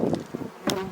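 Honeybees buzz as foragers fly back to a hive during a spring inspection, brief close buzzing passes over about a second with faint intermittent hums.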